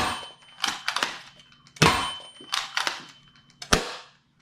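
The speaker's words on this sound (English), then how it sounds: "Push the priming handle forward, and assuming you hold down to safety, you can then fire." A Dart Zone Deuce Pro foam dart blaster fires in a run of sharp, snappy pops, about five shots at irregular intervals, each a crisp near-field crack with a short decay.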